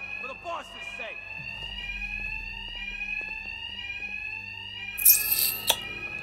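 A steady electronic fire alarm tone rings continuously in the video game Batman: Arkham Knight, with faint background clatter and a brief burst of noise near the end.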